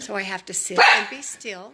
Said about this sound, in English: I apologize for my dogs barking.